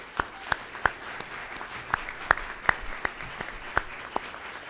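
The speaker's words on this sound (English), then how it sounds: "please stand for a moment so we can all give you a round of applause." Applause at a U.S. Climate Alliance governors' event: sparse, scattered claps ring out one at a time at irregular intervals over a quiet room, faint and distant rather than a full ovation.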